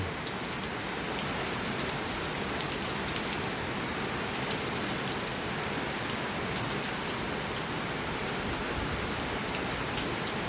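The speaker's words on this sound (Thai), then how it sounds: "ทั้ง ลมทั้งฝน" Steady, heavy rain pours continuously with a broad rushing hiss, gusts of wind blending into the downpour throughout, during a May afternoon storm.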